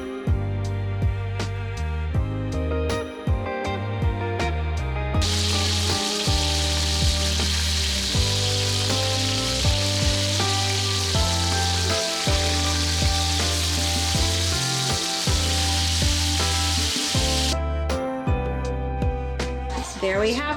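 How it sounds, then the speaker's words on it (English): Sous vide steaks hit a super hot cast iron pan, raising a bright, sustained searing hiss under loud background music, with the sizzle swelling in the middle stretch before easing off. "I have our steaks fresh out of the sous vide. And I have a super hot pan, cast iron, ready to sear."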